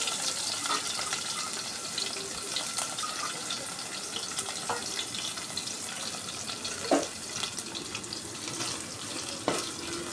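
Dried fish pieces fry in hot oil for a curry with a continuous, fairly quiet sizzle and crackle, with a few brief pops standing out.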